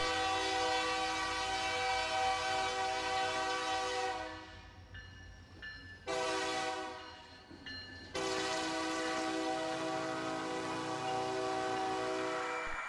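A diesel locomotive rumbles past, sounding loud horn blasts: one long blast, a short one, then another long sustained blast over engine noise.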